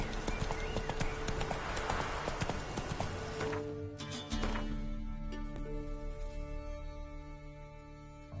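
Video game horse Roach clip-clops along with rapid hoofbeats that slow and settle partway through, followed by softer, sparser steps and a brief snort-like sound.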